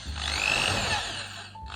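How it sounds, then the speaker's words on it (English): Power drill boring a rivet hole for fixing the hood on an MGB convertible, a steady high-pitched whine lasting under two seconds, close and fairly loud, easing off near the end. "drill that one through"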